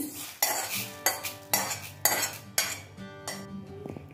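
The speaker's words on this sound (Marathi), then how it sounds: "पहा, डाळ आपली भाजत आलेली आहे।" Dal lentils are dry-roasted in a pan for homemade idli premix and stirred with a metal spatula. Loud, close scraping strokes repeat about every half second, seven or eight in all, with a light clink at the end.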